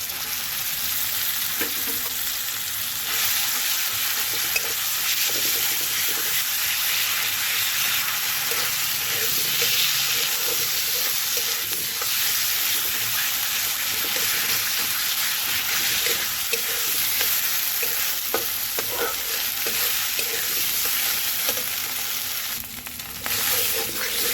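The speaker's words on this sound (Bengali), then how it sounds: "যতক্ষণ না জলটা শুকাবে ততক্ষণ পর্যন্ত এটা নাড়াচাড়া করে বাঁধাকপিটাকে এই বাটাটাকে করতে হবে" Mashed cabbage paste sizzling and frying in a pan, a steady hiss throughout with faint scraping and clinks from the stirring spoon, no talking.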